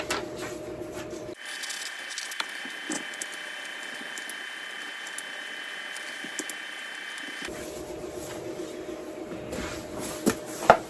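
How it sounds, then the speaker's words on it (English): A printer runs a shipping label for an outgoing package of vintage outboard parts, a steady mechanical whir lasting several seconds close by, with quieter room clatter before and after. "I printed my shipping label"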